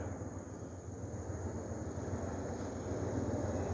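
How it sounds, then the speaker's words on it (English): A low, steady rotor drone from a helicopter flying over woods rumbles continuously in the distance, growing slightly louder, with no voices. "Hell, there's a helicopter."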